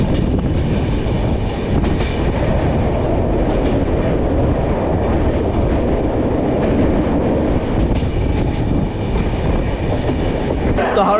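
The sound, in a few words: Howrah Jodhpur Superfast Express train running on rails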